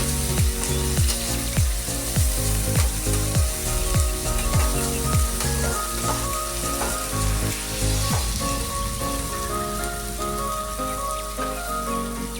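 Onions frying in a pan for an Echor chingri (jackfruit and prawn) dish give a steady, dense sizzle that runs unbroken throughout, with a rhythmic clicking and ringing tones layered over it.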